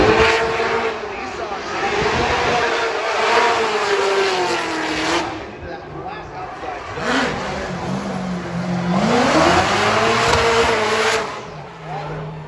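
A Ford Mustang drift car at a Formula Drift qualifying event in Long Beach revs hard and sweeps through a run, engine pitch rising and falling with tire squeal, loud and continuous under a commentator's voice.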